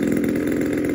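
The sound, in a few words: DLE 20cc model airplane engine running during break-in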